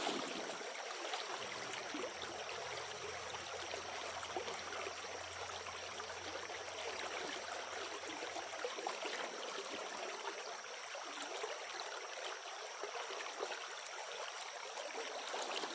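Water flows steadily into a gold prospecting setup, a continuous, even rushing and trickling that carries on for the whole stretch at moderate level with no voices.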